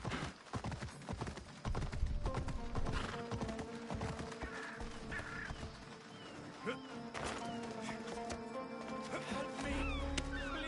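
Rhythmic horse hooves clip-clopping along on a horse farm in Assassin's Creed Odyssey, with occasional whinnies and game-like background tones throughout.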